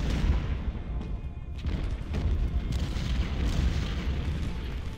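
Musket volleys and cannon fire from an Ultimate General: Civil War battle at Corinth roll on as a dense, continuous rumble of booms and crackling shots, loud and unbroken for the whole stretch, with no voices.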